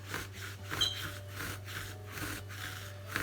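A handsaw cuts through wood while a dining chair is being upholstered, with steady back-and-forth rasping strokes in an even rhythm over a low background hum.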